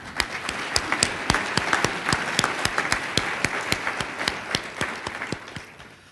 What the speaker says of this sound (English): Could we all give Farm Bureau another round of applause?